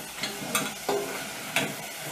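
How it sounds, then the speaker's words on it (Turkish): Sliced potatoes frying in a pan with a steady background hiss, broken by a few brief scraping and stirring clatters. "Dilim dilim doğradığımız patatesleri altın sarısı kızarttım."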